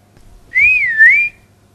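A pure whistle-like demonstration tone slides up and then down in pitch, then rises again, sounding clear and fairly loud for under a second against near silence.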